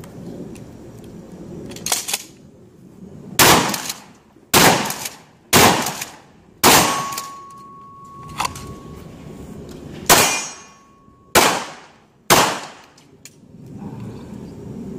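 Pistol gunshots at a shooting range, about ten sharp, loud reports in an uneven series with short ringing tails, one followed by a sustained metallic ring like a struck steel target.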